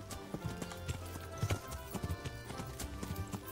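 Rhythmic hoofbeats clop steadily at a fast gallop in Kingdom Come: Deliverance, clear and close, with a faint whinny and no talking.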